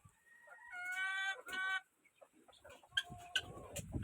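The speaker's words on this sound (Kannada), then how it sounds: "ನಾಟಿ ಪ್ಯೂರ್ ನಾಟಿ ಕೋಳಿ" Native country (naati) chickens kept with their chicks call out. A few drawn-out, tonal calls come close together, followed by scattered short clucks and rustling. No voices are heard.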